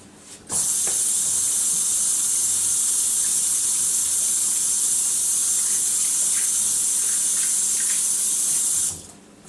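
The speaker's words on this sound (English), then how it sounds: "let me wash my hands because I want impeccable clean hands before I start working with that dough" Hands washed under a steady stream of running tap water before making ravioli dough, a continuous close hiss and splash that starts abruptly, holds evenly, then cuts off.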